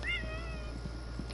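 A cat gives a single short meow at the start, fairly close, over a steady low background hum.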